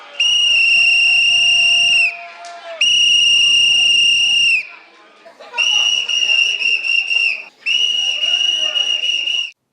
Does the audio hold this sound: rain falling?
no